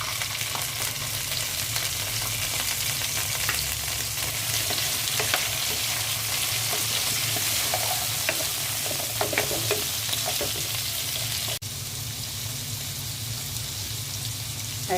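Sweet pumpkin pieces sizzle and fry steadily in a hot pan, with occasional scraping stirs breaking through the dense, even crackle.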